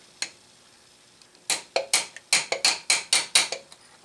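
A transfer punch is tapped with a hammer to mark a hole for a Bridgeport mill limit switch, one sharp metallic tap followed after a pause by about nine quick, ringing taps in a steady rhythm, close and alone.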